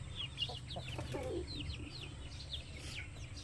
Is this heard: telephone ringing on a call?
no